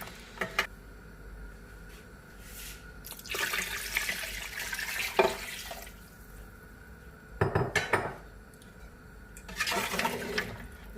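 More water is poured into a pot of mutton paya in a few separate rushing bursts, each a splashing gush with metallic clinks of the pot between pours, fairly close, with no talk.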